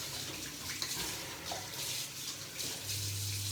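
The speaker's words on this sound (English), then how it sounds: "Let's get some hot water going." Hot water running from a kitchen tap: a steady hiss of flowing water that fills the whole stretch, close and moderately loud, with a low hum joining near the end and no talk.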